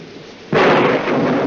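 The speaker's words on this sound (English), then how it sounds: "I love thunderstorms, don't you?" A classic film-noir thunderstorm with rain: a sudden loud thunderclap crashes in after a brief quiet hiss of rain, then carries on as a dense, sustained rumble over the rain.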